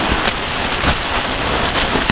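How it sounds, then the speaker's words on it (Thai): Heavy storm rain pours steadily and loudly outdoors in a forest camp, a dense continuous roar of drops with no pauses and no voices. "พายุเข้า"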